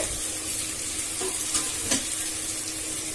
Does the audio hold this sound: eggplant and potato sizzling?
yes